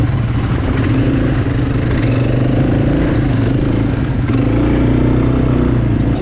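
A quad bike drives through red sand dunes, its engine a loud, steady, low rumble with rattling clatter running continuously without a break.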